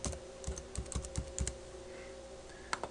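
Someone types on a computer keyboard to rename a software panel, giving a quiet, irregular run of key clicks over a low background hum.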